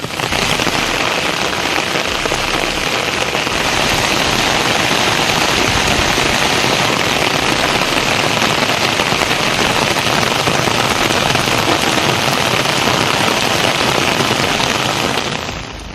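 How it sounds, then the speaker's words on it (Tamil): Heavy rain pours down in Tamil Nadu, a loud, dense, unbroken hiss of drops pattering on surfaces that holds steady for the whole stretch. "பல்வேறு பகுதிகளில் இருபது நிமிடங்களுக்கு மேலாக கனமழை பெய்தது"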